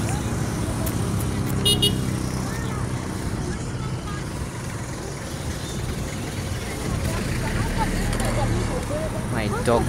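A car passes close by on a road in Bukoto, Kisasi with a short horn toot, engine and road noise swelling and fading under nearby voices, with a few more faint toots from traffic further off.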